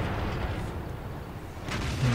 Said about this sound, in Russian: У него довольно сейчас удачный выстрел был, почти на 600 урона